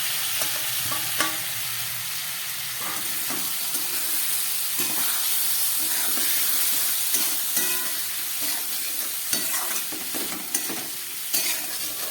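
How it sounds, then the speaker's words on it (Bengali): Mixed vegetables and chana dal sizzle loudly in a hot pan while a spoon stirs and scrapes through them, producing repeated clicks and knocks over a steady frying hiss, close up with no talk. "এবারে এই সবজিগুলো আর ডালটা আমি এর মধ্যে দিয়ে দিচ্ছি"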